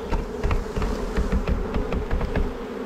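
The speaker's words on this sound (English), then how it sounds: "but a lot of bees here." Honey bees buzz in dense, continuous swarming drone around an open hive box full of workers and drones, close and loud with individual bees passing near.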